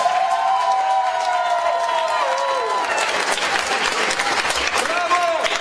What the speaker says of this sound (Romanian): Denis, aplauze pentru cartea.